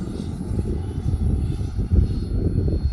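A Freewing F-22 90mm electric ducted-fan RC jet makes fast low passes outdoors, a steady rumbling whoosh that holds throughout with a brief swell near the middle.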